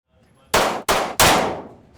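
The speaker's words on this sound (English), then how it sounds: "Good shooting right there. I try to go to the range like 3-4 times a week." Three loud, sharp gunshot blasts at an outdoor shooting range, each a sudden broadband crack with a ringing decay, the last one trailing off longest.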